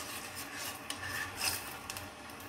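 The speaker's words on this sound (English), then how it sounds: "let's give a stir" A spoon stirs a sugar mixture heating in a pan over a medium flame, giving a soft, continuous rubbing and scraping with faint clinks against the pan. It is close and fairly quiet.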